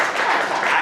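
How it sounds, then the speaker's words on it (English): A polite golf clap from an audience: brief, soft, scattered patting of hands lasting under a second, even in level with no voices over it. "Golf clap."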